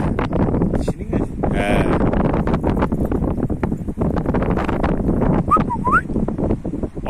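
Strong, steady wind roars across the microphone with constant buffeting, while people talk over it throughout.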